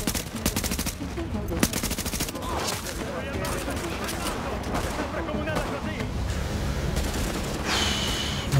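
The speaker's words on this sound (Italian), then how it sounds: "Non è mica facile sparare a questi tizi, eh." Rapid bursts of automatic gunfire and single shots in the video game The Division, loud and continuous with clattering shots and a voice talking over parts of it.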